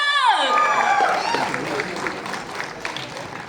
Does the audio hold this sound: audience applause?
yes